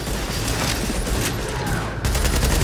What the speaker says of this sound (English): even with both of us shooting at him